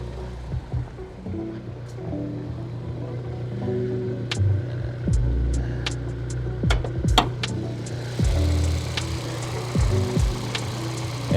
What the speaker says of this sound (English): Engine's running okay.